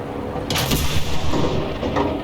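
Aircraft cannon fire in the video game Enlisted comes as a loud, dense, rumbling burst of rapid booming shots over a constant heavy battle drone, close and continuous.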